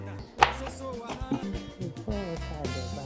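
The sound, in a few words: pounding yam for fufu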